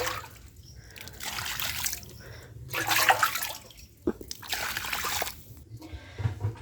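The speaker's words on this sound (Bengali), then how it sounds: "তাই আমাকে এই যে মগের সাহায্যে বের করে দিতে হবে" Water bailed with a mug from a fish tank holding catfish: repeated close scoops and pours, trickling and splashing in several uneven bursts with brief pauses between them.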